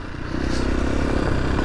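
A motorcycle roars loudly and steadily up close on a rocky green lane while popping a small wheelie, its engine droning over rough scraping and clattering from the stones.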